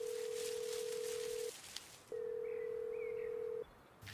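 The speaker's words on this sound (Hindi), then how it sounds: "सूरज का फोन बज उठा।" Phone ringing sound effect in an audio story: two long, steady electronic ring tones separated by a short pause, loud and clear with no voices.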